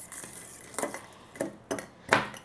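Palm sugar being stirred into a dressing in a bowl, with a spoon clinking against the bowl in about five separate short taps and scrapes, fairly close and alone.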